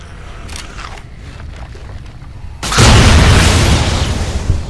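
A grenade goes off in Fallout: New Vegas as a sudden loud boom with a sustained crackling roar, rising out of quieter game ambience midway through. No one speaks.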